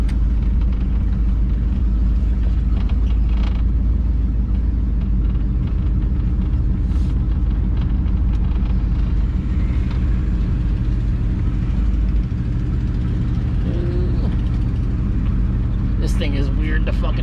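A van is driven on the road, with a constant loud low engine and road rumble filling the whole stretch, steady and close, heard from inside the cab.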